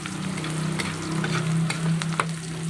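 Onion and garlic fry in hot oil for adobong kangkong, a constant close sizzle with light stirring noises and a low hum underneath.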